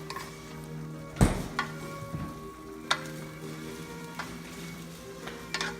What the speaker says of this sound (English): And then we're gonna give this a good